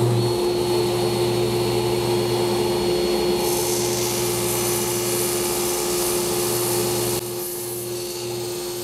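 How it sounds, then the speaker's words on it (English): A table saw trims the rough factory-cut edge off a wood piece for an art clock, droning as a steady loud motor whine that shifts slightly partway through. "I'm going to tidy up the edge on my table saw because that rough edge of the factory cut was too much to sand off."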